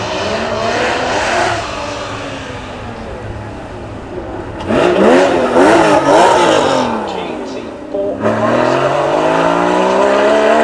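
A race car engine on rain tyres, with a barely baffled exhaust, revs hard nearby, pitch sweeping up and down in loud surges, with a brief drop before roaring again.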